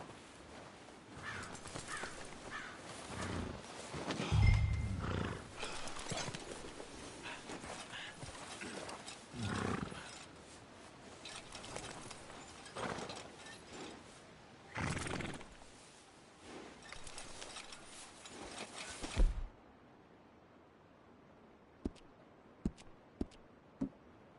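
A horse whinnies and neighs repeatedly in Red Dead Redemption, with hoof clip-clops and scattered game effects over the first twenty seconds, then near silence broken by a few sharp clicks.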